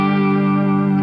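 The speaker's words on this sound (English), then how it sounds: "use a little bit of the tremolo bar on at the end. It's kind of a Bigsby effect." A sustained electric guitar chord from an open-tuning demonstration rings loud and full, with distortion, chorus-like shimmer and echo. No voices are heard.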